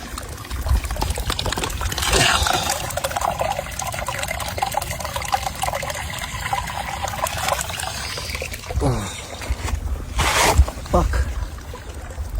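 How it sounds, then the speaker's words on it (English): A small stream of water trickles out of a rock along a hiking traverse, a steady close-up dribble and splash running throughout, with a few louder bursts and rustling movement near the end. "Finally found a little stream coming out of this rock."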